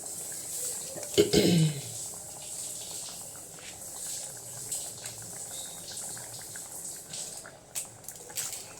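A curry with mustard seeds, fenugreek, chillies and curry leaves bubbles softly as it simmers and reduces in a pan, with a brief stirring clatter near the start and quiet talk.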